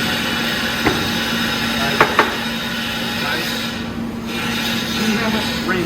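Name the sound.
reaming out a hole in metal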